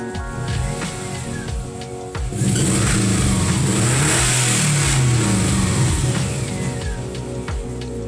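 A Subaru Impreza fitted with an Injen cold air intake revs up close and loud, its engine climbing from idle into a sustained, harmonic-rich roar that then falls and settles.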